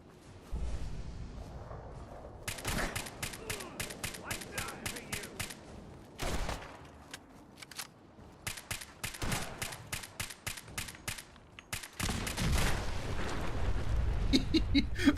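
Bursts of rapid gunfire in a very hard blind playthrough of the shooter game Atom, loud clustered volleys of shots separated by brief pauses, with a heavier boom near the end.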